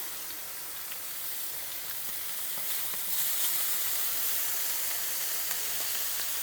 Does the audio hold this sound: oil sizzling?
yes